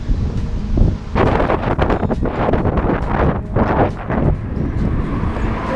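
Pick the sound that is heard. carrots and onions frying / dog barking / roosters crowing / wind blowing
wind blowing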